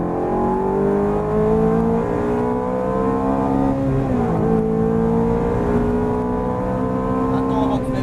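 A Ferrari F430 GT pulls hard on a race circuit, its engine a loud, steady, high-pitched roar with rising harmonics and a brief dip in pitch near the middle as it shifts, heard from close inside the car.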